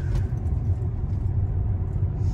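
Chevrolet Lacetti engine straining at high revs while driving during a driving lesson, a loud, close, steady low rumble from inside the car with no talk over it.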